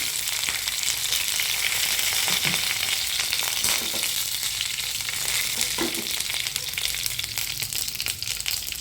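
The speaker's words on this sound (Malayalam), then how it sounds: "കടുക് പൊട്ടി വരുമ്പോൾ ആവശ്യമായ കറിവേപ്പിലയും 2 ചുമന്ന മുളകും ഇട്ട്" Mustard seeds, curry leaves and two red chillies sizzle hard in hot oil for a sadhya parippu curry tempering, a close, steady crackling hiss with scattered sharp pops and no voices.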